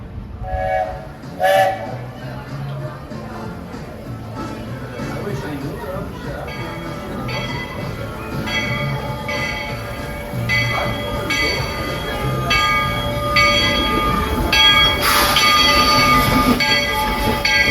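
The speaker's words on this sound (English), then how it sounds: "seated so the train is fully completely stopped" A Walt Disney World Railroad train at the Magic Kingdom rolls along with a steady rail rumble, squealing wheels and brief bell and horn tones, the clatter swelling toward the end as it comes to a stop, with voices in the background.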